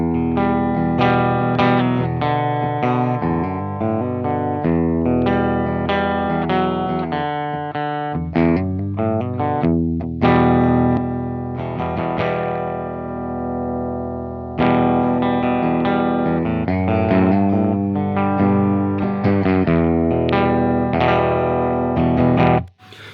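An electric guitar runs through an Old Blood Noise Endeavors Excess V2 pedal with the gain at minimum, giving a clean, sustained tone of chords and single notes that plays loud and steady throughout.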